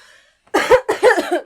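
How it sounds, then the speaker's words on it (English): Two harsh, close coughs in quick succession after a brief quiet moment, loud and raspy. "You're just gonna have to listen to my coughing."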